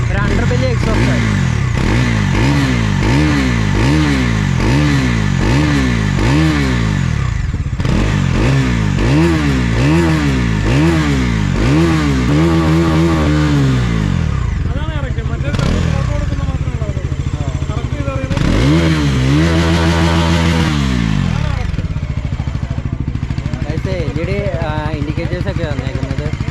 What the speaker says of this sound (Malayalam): ഇതാണ് ഇതിൻ്റെ ഒരു എക്സോസ്റ്റ് നോട്ട് വരുന്നതെന്ന് കേട്ട് വയ്ക്കാം.